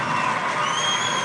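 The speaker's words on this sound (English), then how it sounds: "Give your dream a round of applause." An audience at a motivational speaking event cheers and claps, a dense, steady wash of crowd noise with whoops filling the short stretch at an even, fairly loud level.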